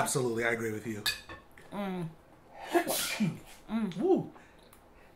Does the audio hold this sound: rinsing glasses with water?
no